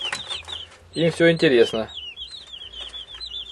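Broiler chicks in a brooder cage with a fine mesh floor cheep and chirp in short high calls throughout, while a person speaks briefly over them in the middle.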